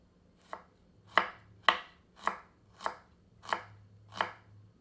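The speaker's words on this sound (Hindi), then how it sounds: "दो मध्यम आकार की प्याज को पतली फांकियों में काट लेते हैं।" Two medium onions sliced thinly with a knife on a board, seven crisp chopping strokes in a steady rhythm, close and clear with no talk.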